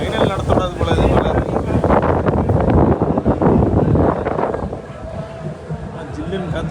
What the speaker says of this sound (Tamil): ஜில்லுன்னு காத்தடிக்குது.